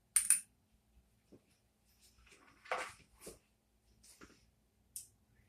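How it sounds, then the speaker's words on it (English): Dice roll and rebound on a craps table, heard as a few sharp clattering clicks and scattered light taps spread over several seconds, faint and close, with no voices. "crazy rebound on the dice over there"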